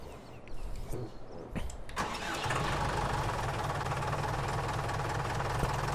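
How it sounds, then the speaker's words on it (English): A little tiny farm tractor's engine cranks briefly with a few clunks, then catches and settles into a loud, steady running idle close by, no voices. "we are going to get into our little tiny tractor here"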